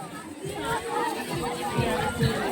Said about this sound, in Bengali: এখানে এখন প্রচুর লোকজনের ভিড় রয়েছে